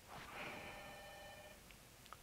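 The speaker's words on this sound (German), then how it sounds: "Telefon! Gehen wir mal ran, bevor er auflegt oder sie." A telephone bell rings inside the video game Project Zero: Maiden of Black Water, a close, sustained electronic trill lasting about a second and a half, followed by a couple of faint clicks.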